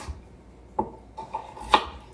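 A knife chops carrots on a board, giving three or four sharp, separate knocks spaced irregularly over a quiet background.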